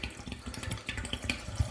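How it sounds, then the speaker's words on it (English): Water running from a tap into a container while a fruit smoothie is being prepared, a faint, steady splashing trickle with small gurgles, no voices. "The only thing we need now is water. So I'm going to get some water."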